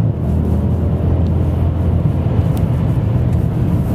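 Mercedes-Benz E63 AMG sedan engine powering hard onto a track's back straightaway, a loud, sustained low roar that holds steady throughout with no voices.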